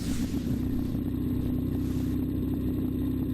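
A rebuilt 1970 Triumph Bonneville motorcycle engine running on a loose, muddy surface, a steady, even mid-pitched drone with a regular firing pulse, close and constant throughout with no voices.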